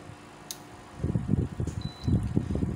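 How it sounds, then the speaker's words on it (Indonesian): A low-frequency 3000 W 24 V power inverter switching on, its cooling fan starting up with a soft whir that swells into a fluttering low hum after a brief quiet moment and a faint beep. "Langsung aja kita nyalakan inverternya terlebih dahulu."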